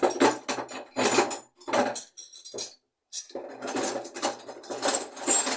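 Metal Sinafor wrenches in a mixed toolbox clink and clatter close by, several bright jangling bursts separated by short pauses, with one brief silent gap midway.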